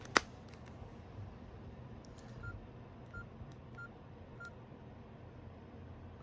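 Mobile phone keypad tones, a sharp click at the start and then a handful of short, faint beeps spaced roughly evenly over a quiet background hiss.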